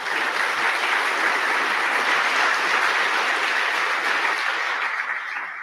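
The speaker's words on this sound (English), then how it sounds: "let's give him a round of applause" Loud, dense audience applause at a medical summit, a steady wash of many hands clapping throughout with no talk over it, tapering slightly at the very end.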